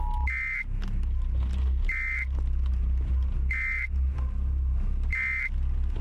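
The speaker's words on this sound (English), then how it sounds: "It's like a typical alarm sound" Four short, evenly spaced electronic beeps sound from an alarm clock in the video game Fractured Blooms, each a bright, piercing tone, over a low steady hum.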